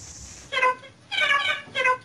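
Three synthetic cat meows from a Cherumin, an electronic musical toy that produces sixteen animal sounds, close and clear, each a short harmonic cry with a longer middle one, separated by brief pauses.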